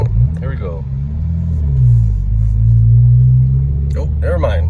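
A 2020 Honda Civic Si with a Stage 1 tune accelerates in sport mode, its engine a loud rising and falling rumble heard from inside the cabin, with someone talking briefly at the start and end.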